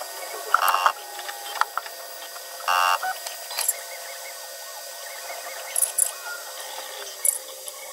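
A Tronxy 3D printer running Marlin firmware works through a Z offset calibration, with stepper whines, brief motor buzzes and small clicks scattered over a faint steady fan hum.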